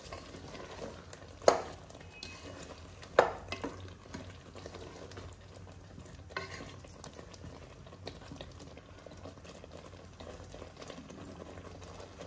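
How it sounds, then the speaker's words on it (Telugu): Dal fries in oil in a pan for sambar, making a quiet, steady sizzle with soft stirring scrapes and a couple of sharper clinks of a spoon against the pan. "ఒక 2 నిమిషాలు ఈ పప్పును కూడా ఆయిల్లో మగ్గనివ్వాలండి."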